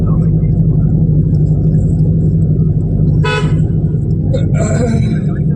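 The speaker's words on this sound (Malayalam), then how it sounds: "വണ്ടി ഹോണടിച്ച് ഹോണടിച്ച് ഹോൺ പോവാം എന്നാണ് പറയണത്" Two short car horn toots sound over the low, constant rumble of a vehicle engine on a hill road toward Valparai, with a voice speaking at times.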